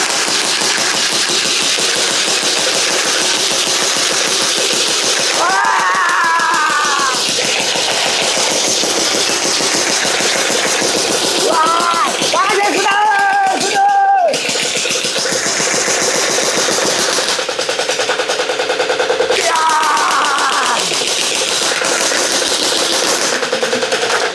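Game gunfire from an arcade gun shooting attraction in Jaffna rattles nonstop in loud rapid bursts, with electronic whines and tones rising over it at a few points, and no voices.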